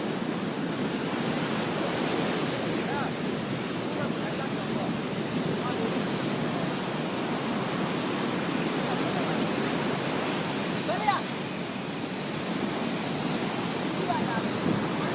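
Ocean waves at Surin Beach, a constant broad roar of surf, steady and fairly loud throughout, with no distinct individual breaks.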